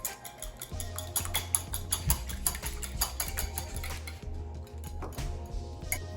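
A spoon beats a seasoned mashed potato mixture with black pepper and salt in a bowl, giving a fast, steady run of close clicking and tapping strokes that slows briefly near the end.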